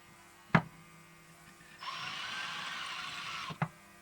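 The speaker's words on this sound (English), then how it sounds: "The drill bit is not happy drilling into ceramic" A drill bit whines steadily for a couple of seconds drilling into ceramic, framed by two sharp knocks before and after, otherwise quiet.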